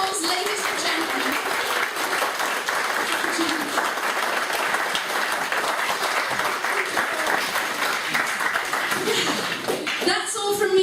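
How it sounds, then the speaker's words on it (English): Audience applause at a comedy show, sustained dense clapping for about ten seconds from a crowd, with voices mixed in and a few chuckles. "Give them a round of applause, ladies and gentlemen"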